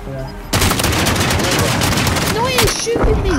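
Rapid automatic gunfire from Call of Duty: Modern Warfare, with an AK-74 among the weapons, rattles loud and continuous in a dense burst, with a voice speaking over the shooting near the end.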